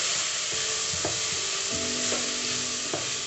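Moong dal and fried onions are stirred in a pan, giving a steady sizzle with a few soft scraping strokes of the spoon. It is close and heard alone.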